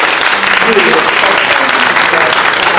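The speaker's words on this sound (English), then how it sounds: "That applause is for you" Steady, loud applause from an audience at a high school hall of honor ceremony, a dense continuous clapping with no breaks.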